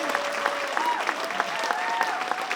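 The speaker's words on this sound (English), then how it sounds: "another applause for that" Steady audience applause fills the room, dense clapping with a few sharper individual claps, while faint voices and a brief tonal sound drift beneath it.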